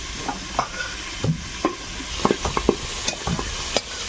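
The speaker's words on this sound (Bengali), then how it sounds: "কচুর মুরগিটা ভাজা নিয়ে তুলে নেব" Taro pieces frying in oil with salt and turmeric in a wok, stirred with a spatula: a soft sizzle underneath repeated sharp scraping clatters, near and fairly loud, with no talking.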